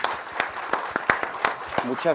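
Audience at a public integrity and participation forum claps in a thin, uneven patter of separate hand claps, with a voice speaking briefly at the end.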